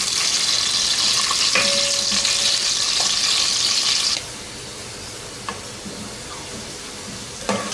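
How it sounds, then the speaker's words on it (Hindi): Onions frying to golden in a pan for chicken yakhni pulao sizzle loudly and close for about four seconds, then the hiss drops to a quieter simmer with a few clinks and spatters, no voices. "अनियंस को हम गोल्डन फ्राई करेंगे।"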